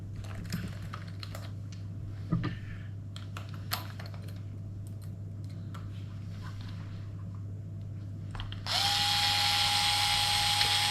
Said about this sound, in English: So just going to put the screws back in now quickly.